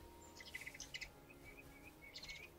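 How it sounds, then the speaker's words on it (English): Small birds chirp and tweet in the video game Niva, bright repeated calls in short bursts over a steady ambient hum, with a lone call between clusters and a final flurry at the end. "Oh, am I supposed to be releasing birds?"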